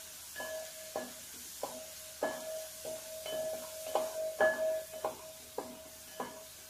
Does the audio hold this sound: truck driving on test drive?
no